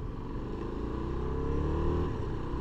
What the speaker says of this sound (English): the problem is that exhaust is way too loud